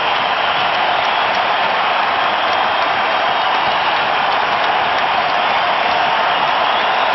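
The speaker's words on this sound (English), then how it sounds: "and they're still cheering" A hockey arena crowd in Montreal keeps up dense, sustained applause and cheering for Saku Koivu, a steady roar of clapping with no breaks from start to finish.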